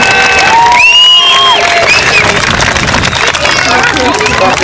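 A large outdoor crowd at the Sunderland International Air Show cheers, whistles and claps during a Royal Marine Commandos unarmed combat display, loud and continuous, with shouted voices and whistles rising above the roar.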